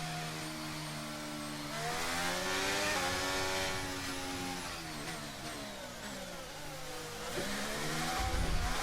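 F1 race cars in the game F1 23 scream past one after another, their high engine notes rising and falling as they go by, loud and close, with a final rumble near the end.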